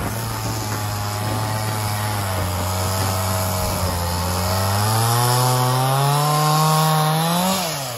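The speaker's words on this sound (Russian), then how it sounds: "Заведи мені ту пилу." A chainsaw engine runs steadily during firewood work with draft horses, its droning pitch rising as it revs up near the end, loud and close.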